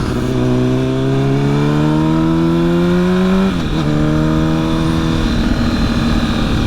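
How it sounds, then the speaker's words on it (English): A Honda CBR1000RR's exhaust drones steadily at highway speed, then drops pitch twice with abrupt downshifts, the engine note booming loudly and continuously throughout. "I'll never get over the downshifts on this thing."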